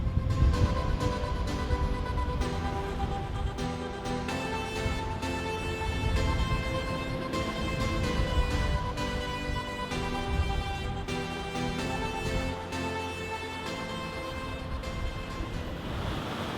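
Ocean waves rush and surge past a sailboat moving fast on an open-sea passage toward Panama, with wind buffeting the microphone; the roar is loud, steady and unbroken, with no speech.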